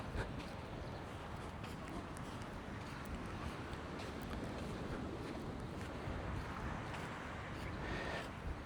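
Sea waves and wind on the beach at Almaza Bay, Egypt, forming a steady, broad roar that stays fairly constant from start to finish, with no clear breaks between waves.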